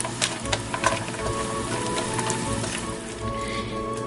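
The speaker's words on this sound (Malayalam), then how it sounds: "ആദ്യം തന്നെ റേസിൻസും നട്ട്സും വറുത്ത് മാറ്റി വെക്കാം." Raisins and nuts fry in a spoonful of ghee in a pan, producing a steady, close sizzle with scattered crackles and pops that continues throughout without any talk.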